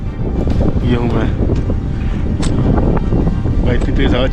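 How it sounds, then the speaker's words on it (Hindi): Strong, gusty wind roars across a high mountain summit on the Sar Pass trek, buffeting the microphone loudly and continuously, with faint voices partly buried beneath it. "भाई इतनी तेज हवा चल रही, क्या ही बताया जाए।"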